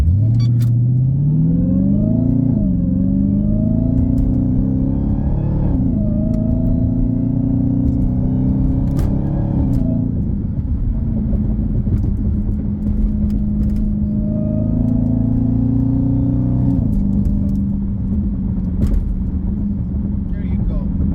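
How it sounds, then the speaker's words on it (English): Supercharged Dodge Hellcat Widebody engine while driving, a loud close rumble with supercharger whine rising through gears, throttle surges and downshift dips, and occasional speech over it. "There's no other car that has a supercharger as loud as this one."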